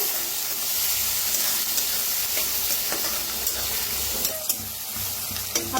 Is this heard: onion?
yes